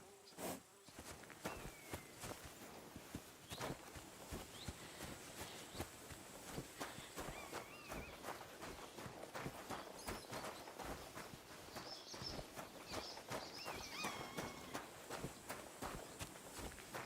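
Hooves of a grey horse walk in a rhythmic clip-clop over ground in Kingdom Come Deliverance 2, faint and steady amid outdoor ambience with insects buzzing and birds calling.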